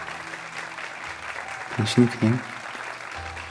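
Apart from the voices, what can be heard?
theater audience applause as performance curtain falls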